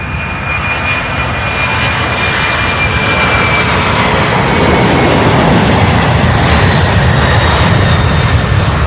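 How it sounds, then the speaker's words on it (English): Airplane taking off at Louisville International Airport, a loud, sustained jet engine roar that builds steadily and holds a broad rumble with a faint whine on top. "One landing, one taking off."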